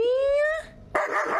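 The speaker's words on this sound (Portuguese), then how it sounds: "é o cachorro!" A dog gives a single drawn-out whining yelp that slides upward, loud and close, followed by a brief pause and then a harsh noisy burst.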